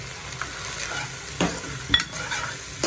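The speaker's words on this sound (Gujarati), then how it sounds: "મસાલા નાખીને થોડી વાર મિક્સ કરીશું।" Spices are stirred into a potato and paneer paratha filling in a pan, with a soft sizzle underneath and a few scraping spoon strokes close by, no talking.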